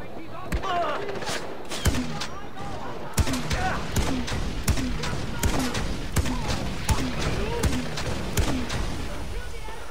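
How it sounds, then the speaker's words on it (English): Jeep-mounted grenade launcher firing in the Far Cry 4 video game, with repeated sharp thumping shots in a steady rapid rhythm, loud and close, over continuous battle noise and a voice talking. "The grenade launcher."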